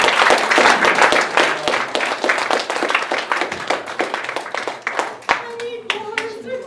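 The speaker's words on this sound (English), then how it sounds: "Jonathan, Charlie, big round of applause." An audience at a humorous speech contest bursts into dense, sustained applause that stays loud and then tapers off, with a voice starting to speak as the clapping fades.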